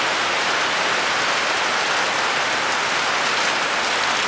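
Heavy rain pouring down on a farm where quail and chickens are kept, a dense, loud, continuous hiss of drops striking surfaces with no pauses and no voices.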